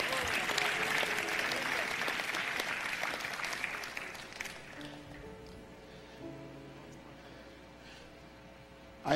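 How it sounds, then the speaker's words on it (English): An audience at a church sermon claps loudly in a sustained burst of applause that slowly fades over several seconds, leaving a quieter room tone. "Clap your hands, all you kingdom citizens."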